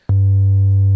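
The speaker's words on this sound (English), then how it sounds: "This is the sine wave that I mentioned right at the beginning. If you see the screen, you can see it's a very pure waveform." A pure 440 Hz sine wave from a Roland synthesizer starts abruptly after a brief pause and holds as a loud, steady, unwavering tone with no talking.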